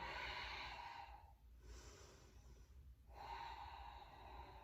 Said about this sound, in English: regain that Ujjayi rhythmic breathing